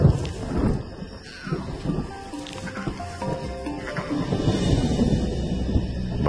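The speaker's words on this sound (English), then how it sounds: "But the rumble of thunder interrupts the lion's reverie." Low rolling thunder on a calm, balmy night on the African savanna, a deep continuous rumble swelling and fading with a steady textured wash over it, heard at a distance.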